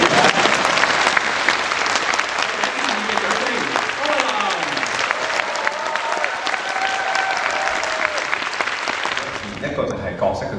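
An audience at a post-screening talk at the Hong Kong International Film Festival claps loudly and steadily for about ten seconds, with a crowd murmuring and a voice surfacing over the applause, which fades at the end.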